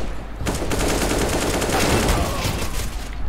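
USP pistol gunshots in the video game CS:GO during a tournament match, a rapid run of sharp shots over a steady wall of game noise, loud and close throughout.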